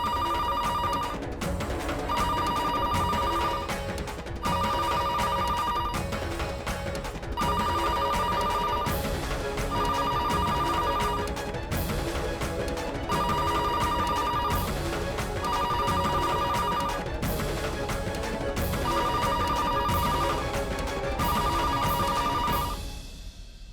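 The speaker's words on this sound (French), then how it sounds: "pourquoi tu ne réponds pas au téléphone qui sonne?" A telephone rings in regular repeated bursts for over twenty seconds under constant dramatic background music in a dubbed Indian drama series, cutting off at the end.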